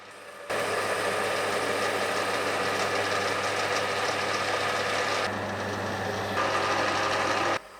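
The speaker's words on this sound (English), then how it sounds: "So I'll take the steel down to 16mm and also make a small shaft on the end, which will locate into the bushing." Steel stock is machined down to 16mm to make a gear for a hydraulic gear pump, producing a loud, steady mechanical whir that holds constant with a slight shift in tone partway through before cutting off abruptly.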